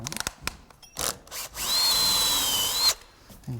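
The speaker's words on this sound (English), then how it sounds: "Then we run a 1 inch hole saw to cut a clean cut for our bolt head and washer" A power drill fitted with a 1 inch hole saw bites into a log post, a few short starts followed by a loud, sustained whining cut of over a second, heard up close.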